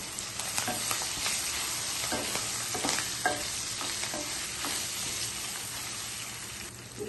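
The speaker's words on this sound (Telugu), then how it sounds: "తాలింపు వేగిపోయింది కదా" A tempering of mustard seeds, fenugreek, dried red chilies, curry leaves, garlic and green chilies fries in hot oil, a close, steady sizzle dotted with sharp pops and crackles.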